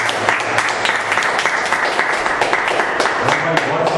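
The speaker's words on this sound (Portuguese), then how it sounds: "E que as palmas vão para Deus." A church congregation claps at the close of a service, loud continuous applause close by, with voices heard beneath the clapping.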